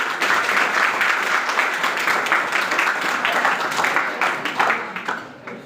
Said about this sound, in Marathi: त्याच्यासाठी जोरदार टाळ्या होत्या.